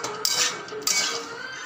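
A spoon scrapes and clatters in a metal pan as cluster beans and boiled potatoes are stirred together, with two sharp clinks over a continuous close sizzling scrape.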